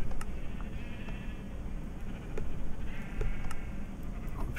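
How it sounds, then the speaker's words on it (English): Sheep bleating in Minecraft, red-dyed sheep close by, with several short bleats repeating over a steady low background hum and no talking. "The red sheep are right here."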